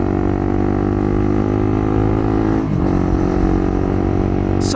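Honda CBR150R motorcycle fitted with a slip-on muffler running steadily close by, a loud, even engine drone with a brief dip in pitch partway through and no talking.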